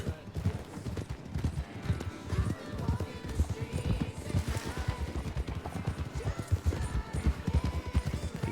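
In a Wild West roleplay game, a horse's hooves clip-clop in a steady, close rhythm that continues throughout, with faint game ambience beneath.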